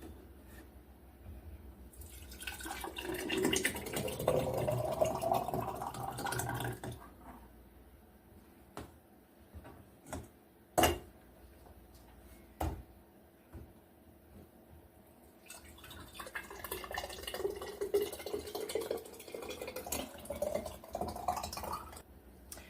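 Homemade tomato sauce is poured from a pan into quart jars in two long stretches of gurgling, rising liquid pouring, separated by quieter gaps with a few sharp clinks of glass, all fairly faint and close.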